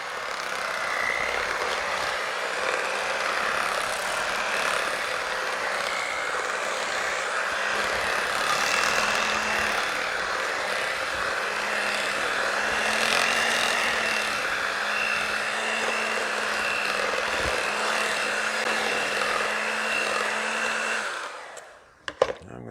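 An electric mixer beats two eggs into keto cheesecake filling, a steady, loud whirring motor drone that runs unbroken for about twenty seconds before cutting off with a couple of clunks.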